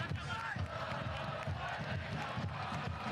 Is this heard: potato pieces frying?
no